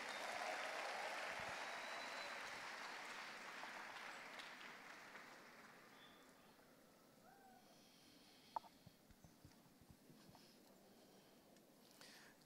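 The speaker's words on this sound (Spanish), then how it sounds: "denle el mejor aplauso al Señor" Church congregation applauding together, a dense wash of clapping that is loudest at the start, gradually thins and fades, then leaves scattered single claps near the end.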